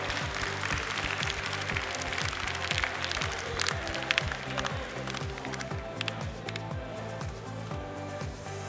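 An audience at a Jersey cattle show claps loudly and continuously for the cows, a dense, sustained patter of many hands with a few sharper claps standing out, under a low rumbling background.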